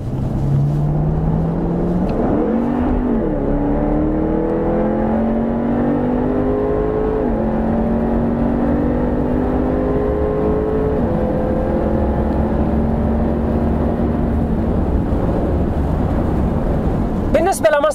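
A 2014 Jaguar F-Type coupe engine accelerates hard with traction control engaged. Its loud, close exhaust note rises repeatedly in pitch and then drops at gear shifts.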